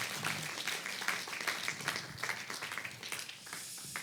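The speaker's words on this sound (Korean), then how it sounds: "함께 영광의 박수 올려드릴까요?" A church congregation applauding, a faint, steady patter of many hands clapping together for a few seconds, heard from a distance.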